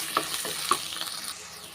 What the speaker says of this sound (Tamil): உப்பு சேர்த்துட்டு நல்லா வதக்கிக்கிறலாம்